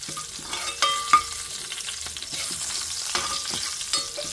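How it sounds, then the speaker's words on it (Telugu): Four crushed garlic cloves with curry leaves fry in hot oil, giving a steady close sizzle broken by a few sharp pops and light stirring clinks. "కచ్చాపచ్చాగా దంచుకున్న ఒక నాలుగు వెల్లుల్లిపాయ రెప్పలు సో ఇది ఒక్కసారి మనం ఇట్లా ఫ్రై చేసుకోవాలి"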